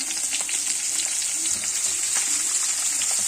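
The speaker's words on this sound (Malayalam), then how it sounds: "ഇനി എണ്ണയൊക്കെ ചൂടായിട്ടോ. ഞാൻ മീനിടാൻ പോവാട്ടോ." Fish frying in hot oil gives a steady, loud, continuous sizzle with a bright crackling hiss throughout and no talking.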